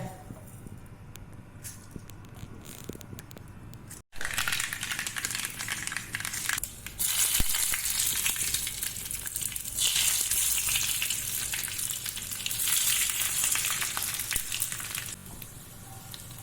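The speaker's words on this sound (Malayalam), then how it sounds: "അവിടെ കുറച്ച് വെളിച്ചെണ്ണ ഒഴിച്ചിട്ടുണ്ട്. കടുകിടട്ടെ." Mustard seeds splutter in hot coconut oil: after a quiet start, a sudden loud, dense crackling sizzle fills the pan and keeps going close up, with a voice talking faintly under it.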